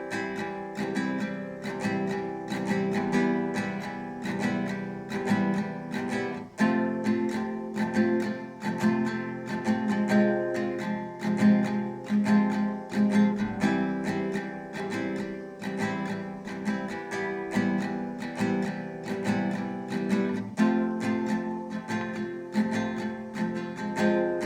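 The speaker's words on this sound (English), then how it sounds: "So in total, our general chord progression will sound like this." Acoustic guitar strummed in a steady down-up pattern through a repeating easy chord progression from the song Deathbed by Powfu, with chord changes every few seconds, played alone with no voice.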